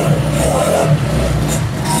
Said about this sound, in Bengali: আমরা বাইকটা স্টার্ট করে সাউন্ডটা দেখানোর চেষ্টা করব।